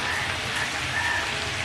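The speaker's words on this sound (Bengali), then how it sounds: "এবার লো ফ্লেমে খুব ভালো করে সব কিছু ভেজে নিতে হবে।" Ridge gourd and shrimp fry on a low flame in a pan, giving a dense, even crackling sizzle like light rain, steady throughout and unbroken by speech.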